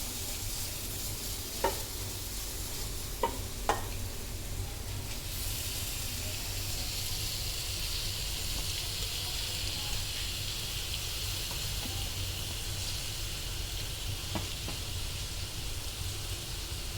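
Cleaned squid dropped into hot masala in a pan for a squid fry, giving a steady, even sizzle with a few sharp clicks of stirring near the start; no one talks.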